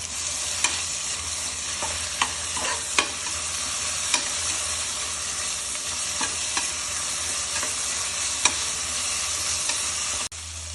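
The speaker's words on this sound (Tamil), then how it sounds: "தக்காளி ஆட் பண்ணி இதையும் நல்லா வதக்கி விட்டுருவோம்" Tomatoes and mint sauté in an oily pan for a mushroom biryani, giving a steady loud hiss of frying broken by occasional sharp taps of a spoon against the pan, close up and without voices.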